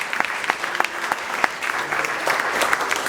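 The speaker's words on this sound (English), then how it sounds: "please, massive round of applause for Kaya, the two beautiful ladies" Audience clapping at a birthday celebration, starting as distinct separate hand claps and thickening into fuller, continuous applause over a few seconds.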